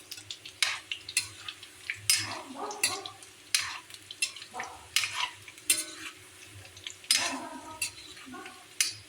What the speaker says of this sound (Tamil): இது வறுக்கிறது பாருங்கள், ரொம்ப வறுக்கக்கூடாது.